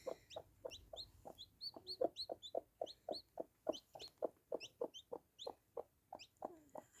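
A hen named Pebble clucks in a quick, steady series of soft close calls while a chick hatches beneath her, the rhythmic clucks running continuously and fairly faint.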